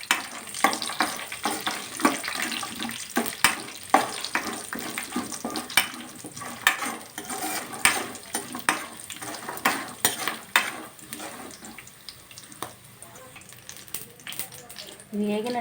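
Green chillies and spices frying in oil in a pan for raw mango pulihora, with a steady crackling sizzle broken by frequent scraping stirs, while a voice talks over it in the foreground.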